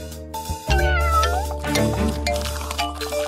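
A cat meows in a high, wavering cry with several rising and falling calls over background music, close and clear, with no talking.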